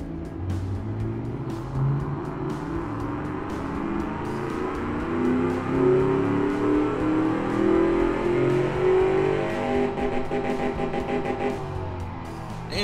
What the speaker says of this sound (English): So it's going to run the engine through its dyno test as normal.